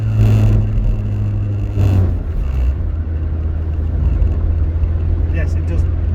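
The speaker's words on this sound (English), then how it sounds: "I'm doing 50 miles per hour there, so that's a reasonable speed to do." Rover R8 engine struggling to rev while driving at about 50 mph, a steady low droning hum with road rumble and no climb in pitch, close inside the car, with faint wind noise.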